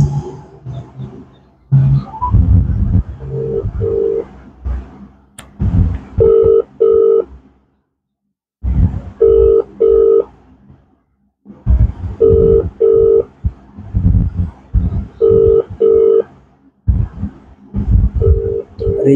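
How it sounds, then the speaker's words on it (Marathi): Outgoing phone call ringback tone on a Marathi mock invitation call, repeating in pairs of steady beeps with pauses between, fairly loud and clear with no talking over it. "रिंग जातोय."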